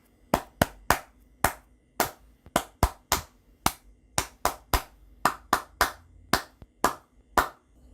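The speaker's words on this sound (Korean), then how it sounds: "박수로 쳐드렸던 이 곡은 곰새말이라는 동요였습니다" A single person claps out the rhythm of the Korean children's song Three Bears (곰 세 마리), with crisp, close, uneven hand claps spaced in a sung-melody pattern, alone with no talking.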